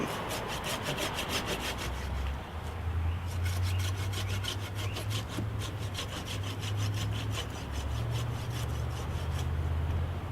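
A hand saw cuts through a tree branch during pruning in a garden, with fast, even rasping strokes repeating throughout, loud and close, with no talking.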